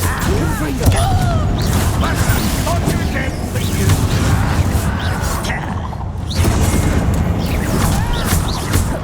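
In the Hogwarts Legacy video game a Confringo spell goes off with a loud booming blast, followed by rumbling explosions and whooshing combat effects, while voices shout over the din.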